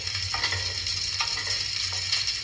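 Garlic sizzling in oil in a pan for mushroom soup: a steady, close frying hiss with a few soft stirring scrapes, no talking.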